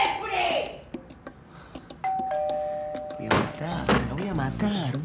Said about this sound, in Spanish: ¡Sonó el timbre!